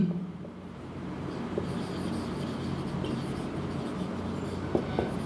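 Chalk or a marker scratches across a board during a biology lecture on neurons, a continuous near scraping of writing over low room hum, with no talk while the word is written.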